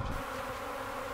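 A dense, continuous buzz of a swarm of about 50,000 honeybees close by during a bee rescue in Strathroy, Ontario, steady and loud throughout.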